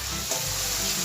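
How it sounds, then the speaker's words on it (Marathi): Finely chopped onion frying in hot oil, a steady close sizzle with light stirring throughout a brief moment, no voices. "तेल चांगलं गरम झालंय, त्यामध्ये आपण बारीक चिरलेला एक कांदा घालून घेऊया आणि कांदा हलकासा तांबूस रंग येईपर्यंत परतून घ्यायचा"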